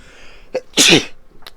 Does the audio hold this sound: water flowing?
no